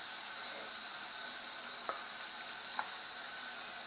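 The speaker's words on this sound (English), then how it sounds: "take your time and add your sauteed veggies in, and add your oil as well." Sautéed vegetables and oil added to a simmering cocoyam leaf stew (nkontomire abomu) give a steady, even sizzling hiss, with two faint clicks partway through and no talking.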